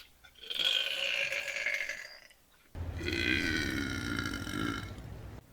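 Two long, loud belches in quick succession from a person nearby, the second deeper and more rumbling, with nothing else audible.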